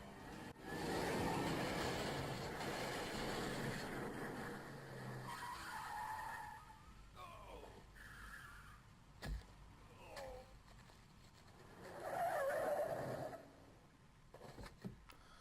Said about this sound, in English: So you smash into a car in a second.